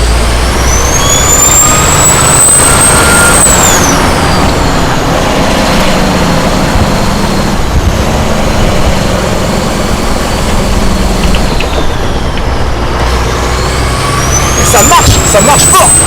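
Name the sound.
truck engine accelerating during a drift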